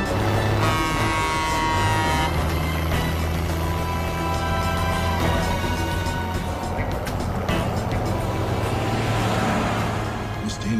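A car driving along a road, its engine and tyre hum loud and constant for the whole stretch, with faint tonal noises from inside the cabin, no clear voices.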